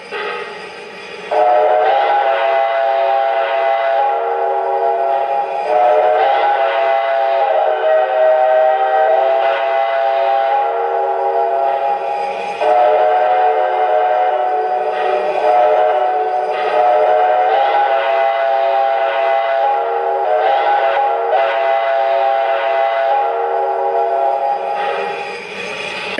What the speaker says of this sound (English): now here's the quilling whistle, which also sounds really good